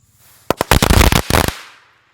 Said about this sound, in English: It's a cannonball, so it's filled with firecrackers.